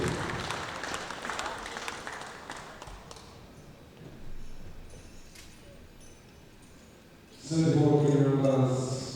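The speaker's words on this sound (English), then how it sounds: "Give it a round of applause." Audience applause at the World Classic Powerlifting Championships, women's 47-52 kg masters session: a moderate patter of clapping in a hall that fades, rises briefly, then swells loudly near the end.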